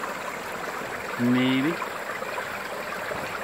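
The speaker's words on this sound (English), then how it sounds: "If you listen, hope it doesn't open up now. You can see in there some water flowing." Water flows in a cave with a steady, hissing trickle, constant throughout, and someone briefly speaks over it.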